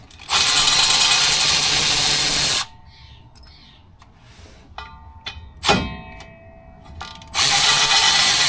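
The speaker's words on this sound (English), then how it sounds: "Now we take off the drive shaft." Tools remove the drive shaft from a 1979 El Camino. Loud bursts of a power tool open and close the clip, with sharp ratchet clicks and metallic knocks in the quieter middle.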